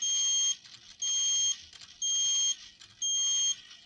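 An electronic buzzer on a coding robot beeps on and off in a steady rhythm at 0.5-second intervals, four shrill half-second tones separated by short gaps.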